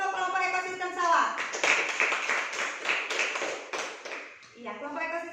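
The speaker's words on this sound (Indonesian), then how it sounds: "Berikan tepuk tangan dulu untuk kelompok ekosistem sawah." A classroom audience gives a short round of applause for a student group that has presented on the rice field ecosystem, the clapping fairly close and steady, with voices mixed in.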